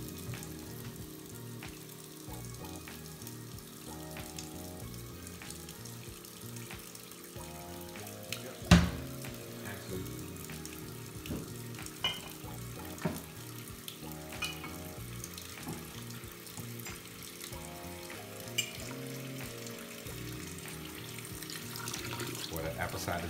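Kitchen sink filling from the tap with the stopper in, a steady rushing hiss of water running continuously with a few clunks and knocks along the way.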